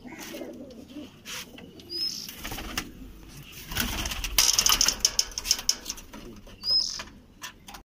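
Pigeons coo softly nearby among rustling and occasional wing flaps, with a few sharp chirps and scattered clicks, and no one talking.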